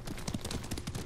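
Horse hooves gallop in the video game Ghost of Tsushima, a quick run of rhythmic clip-clop thuds heard close and moderately loud, with no talk.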